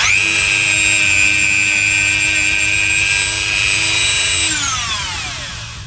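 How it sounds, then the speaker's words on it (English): A Dremel rotary tool loaded with polishing compound spins at high speed, giving a loud, steady, close-up whine that holds for several seconds and then winds down in falling pitch as the tool is switched off. "this is a Dremel tool and it's spinning pretty fast"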